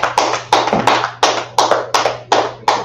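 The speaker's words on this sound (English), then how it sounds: "Clap it up." Several sharp hand claps ring out in an uneven rhythm in a classroom, loud and close, each a crisp broadband snap over a faint steady hum, with no talking.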